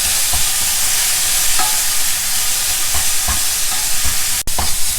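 Onions fry loudly in a pan for South Indian palak rice, a dense sizzle broken by repeated scraping strokes of a spatula stirring them, plus one sharp clack near the end; no voices.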